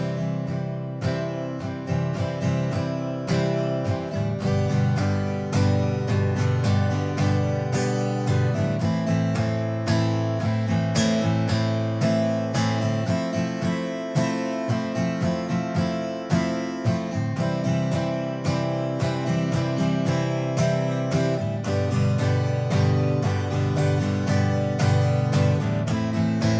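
Acoustic guitar strumming a chord progression at a lively tempo, each chord repeated twice in a row, giving a steady rhythmic pattern of bright full strums that ring continuously and loudly without speech.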